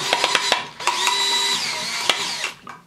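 A power drill drives a screw into an electrical box in short whirring bursts that rise in pitch, with a few quick clicks and taps between them, close up and loud.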